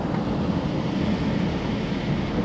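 Big, rough ocean waves breaking on a Puerto Rico beach make a loud, steady roar of surf, mixed with wind buffeting the microphone, with no one talking.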